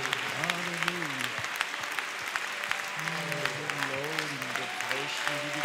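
A church congregation applauds in a dense, continuous patter while a voice chants or sings over it throughout, the clapping holding steady and close.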